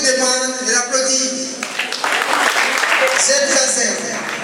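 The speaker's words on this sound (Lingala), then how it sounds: "Je vous demande de l'applaudir." An audience at a televised event breaks into applause, a burst of clapping lasting a couple of seconds between stretches of someone speaking over the room.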